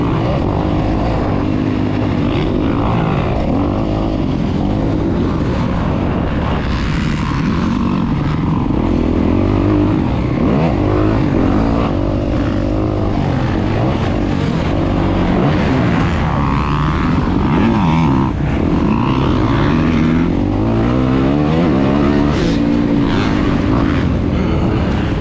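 Dirt bikes racing in an Alabama arenacross motocross event, a continuous loud engine drone from several bikes revving and shifting throughout, busy and close, with no talk.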